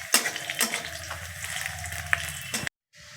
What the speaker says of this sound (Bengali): রসুনটা একটু লাল করে ভেজে নেব।